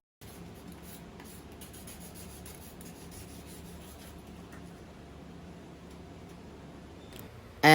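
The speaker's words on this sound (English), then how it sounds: "I bring it to some rough sandpaper. And then the fine sandpaper." Sandpaper rubbing over a hand-carved wooden spoon, a steady close scratchy rasp that runs evenly for several seconds, alone with no talking.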